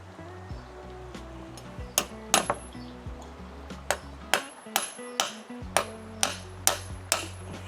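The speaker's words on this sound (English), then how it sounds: "I'll hammer here" Sharp metallic hammer strikes ring out at a steady rhythm, a dozen or so blows, loud and close, with a low hum underneath, during bridge building in Bhutan.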